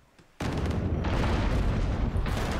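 Cannons fire in a naval battle in the video game Abandon Ship, opening with a sudden loud blast that gives way to a dense, sustained roar of booming gunfire and crashing impacts.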